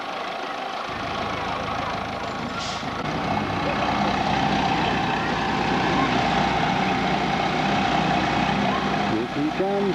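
A truck engine rumbles steadily nearby during a boat launch, a dense continuous drone with faint voices mixed in underneath.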